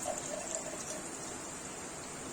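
Water gushes and splashes steadily into a measuring beaker as 250 ml is poured, a close, fairly quiet continuous pour lasting throughout.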